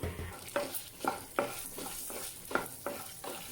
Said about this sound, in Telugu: రెండు స్పూన్లు శనగపప్పు వేసానండి రెండు స్పూన్లు మినపప్పు వేసాను